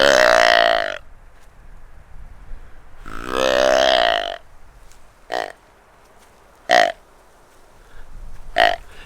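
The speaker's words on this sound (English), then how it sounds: "long, drawn-out guttural bawl sound" Two long, deep guttural bawls from a white-tailed buck deer, each about a second, loud and close, followed by several shorter grunting bursts spaced through the rest, with no talk.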